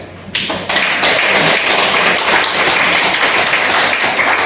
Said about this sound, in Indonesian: Saya mau kita tepuk tangan dulu untuk suster